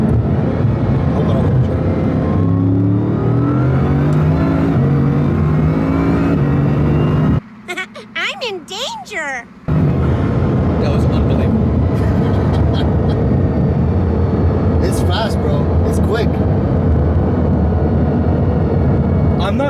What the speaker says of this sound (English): That acceleration was nuts